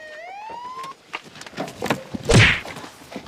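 Police car siren in a Chhattisgarhi comedy sketch: a short rising electronic wail in the first second, followed by thumps, bumps and a loud burst of noise.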